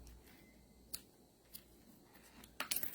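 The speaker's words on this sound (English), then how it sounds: "trim the tails a bit" Scissors snip the tails of a ribbon in a quiet paper-craft setting, with a few sparse, crisp cuts spread out followed by a quick cluster of snips at the end.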